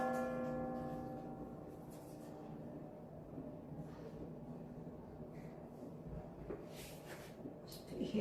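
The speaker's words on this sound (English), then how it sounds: "Maybe you'll hear some fireworks later, but I think it's just the bells." Church bells ring nearby on a Friday, sounding as sustained, resonant tones that fade out, while a person speaks quietly over them.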